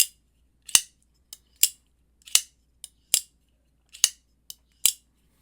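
Titanium button-lock folding knife flicked open and shut, about a dozen crisp snapping clicks spaced unevenly in quick succession, close and sharp against silence.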